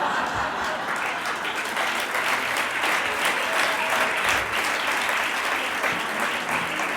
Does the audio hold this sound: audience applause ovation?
yes